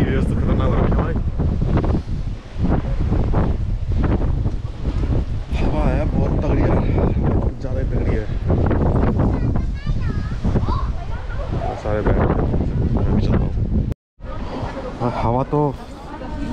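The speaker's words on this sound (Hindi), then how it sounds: "हवा तो खतरनाक हो रखी है हवा" Strong, cold wind by the sea at Unzen Jigoku near Nagasaki, Japan, roars and buffets the microphone almost without pause, while someone talks over the gusts.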